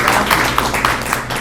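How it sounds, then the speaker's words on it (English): Audience applause at a Memorial School community forum, a loud, close, continuous wash of clapping hands from a room full of people, lasting throughout without speech on top. "let's give him a round of applause"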